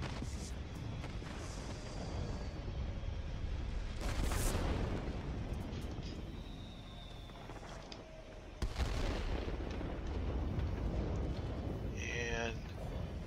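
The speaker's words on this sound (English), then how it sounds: "these bombs have a pretty good area of effect, but it does take a couple to take out the radar installation" Bombs dropped from a Chance-Vought F7U Cutlass fighter burst on radar installations in World of Warplanes, heavy booming blasts over dense, continuous engine and battle noise, with a louder impact near the middle and another later on.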